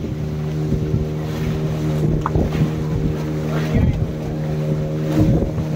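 A tour boat's motor drones steadily near Monkey Island in Goa, a low continuous hum with wind buffeting the microphone and occasional voices talking over it.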